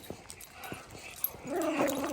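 A dog gives a few short yips and whimpers, followed by a longer whining cry near the end, fairly close and moderately loud with no talking.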